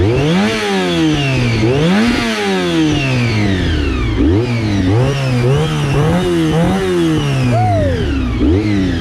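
A Honda VFR400 motorcycle engine revs hard and repeatedly, rising and falling in quick, loud sweeps to very high revs, close and continuous with no talk.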